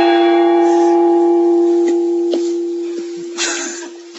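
A gong rings out with a strong sustained tone that slowly decays, with a few light taps and a brief rustle layered over the fading ring.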